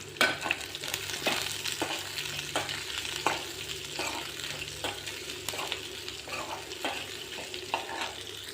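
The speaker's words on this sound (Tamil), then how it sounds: "ரெண்டு வரமிளகா நல்லா ஒரு கை நிறைய சின்ன வெங்காயம் இதை நல்லா வதக்கிடலாம்" Small onions, chana dal and dried red chillies fry in hot oil with a steady close sizzle, punctuated by regular scraping stirs of a spoon against the pan, no voices.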